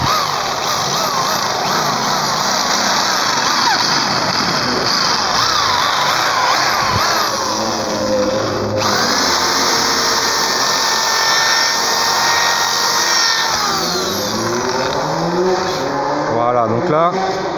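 An electric drill bores into steel tubes on the front end of a VW Combi T1/T2, whining loudly and continuously. The pitch rises and falls as the bit bites, and it ends in a wavering grind.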